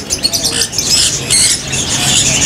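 Lutino birds chirp in a busy bird market, a dense wash of overlapping high tweets and calls running steadily throughout, close and fairly loud.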